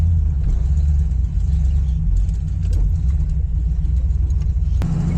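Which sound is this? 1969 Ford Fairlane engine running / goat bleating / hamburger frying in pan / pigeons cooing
1969 Ford Fairlane engine running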